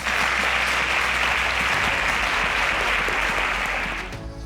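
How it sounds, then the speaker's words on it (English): A studio audience on a televised school quiz show applauds the contestants with a loud, dense burst of steady clapping that fills the room and tapers off at the very end. "Round of applause for them."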